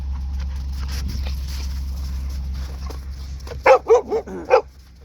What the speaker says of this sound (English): Australian Shepherd Blue Heeler.